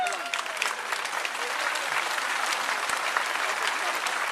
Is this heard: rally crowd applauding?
yes